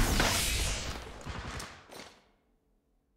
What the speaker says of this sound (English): Making contact here. Opening fire.